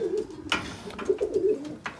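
Pigeons coo in a breeding loft, with several soft, throaty, rolling calls close by, overlapping and repeating in short bursts against a quiet indoor background.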